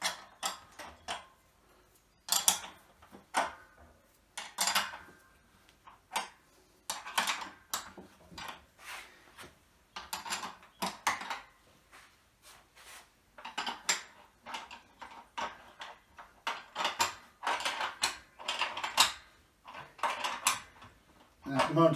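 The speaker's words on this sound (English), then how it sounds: "So now if we just tighten these studs up." Studs being tightened with nuts on a scrap-built wheel and frame assembly for a home-made dumbbell: a steady run of light metallic clinks and ratcheting ticks, close and fairly quiet, with no talking.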